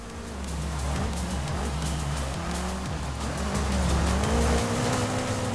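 A stock BMW M5 drives in the racing game Forza Horizon 5, engine droning steadily with repeated gear-shift dips and rises, tires squealing as it corners, loud and continuous with no speech.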